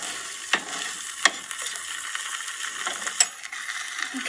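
A big spatula scraping and working under a loaded omelette in a frying pan, a few sharp close clicks and scrapes over a steady bright sizzle, with no talking.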